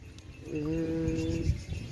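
A goat bleats once at a village livestock fair, a single drawn-out, wavering call of about a second, fairly close and moderately loud over a low background murmur.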